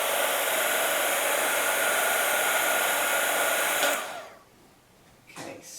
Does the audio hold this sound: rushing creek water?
no